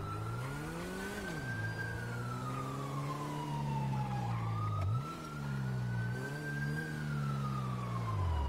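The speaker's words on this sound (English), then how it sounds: "Oh, I hear a siren." A police car siren in a video game wails steadily, its pitch sweeping slowly up and down over several cycles, loud and continuous with no talking over it.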